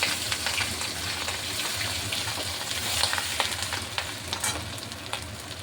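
Dry chili, whole cumin, chopped green chili and ginger sizzle steadily in hot oil, a continuous close crackling hiss with scattered sharper pops and no talking.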